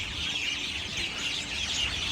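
Small birds chirp and twitter densely outdoors near the Manarat Al Saadiyat cultural centre in Abu Dhabi, a busy, bright, continuous chorus with no voices.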